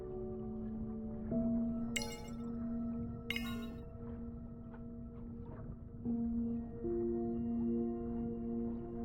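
Long, sustained whale calls echo through an underwater scene in the video game Beyond Blue, with steady tonal moans layered over a soft ambient hum and a couple of brief crackling bursts.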